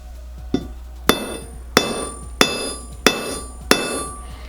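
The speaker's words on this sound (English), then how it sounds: "we're going to try and beat it with a hammer and see what we can do" Six sharp metallic hammer strikes ring out at a steady, even pace on thin tin, each followed by a brief ringing decay.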